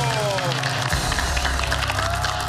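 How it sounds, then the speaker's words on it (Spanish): Studio audience applause on a Spanish-language TV business pitch show, a dense steady wash of clapping with some cheering that holds at even loudness throughout. "¡Un aplauso!"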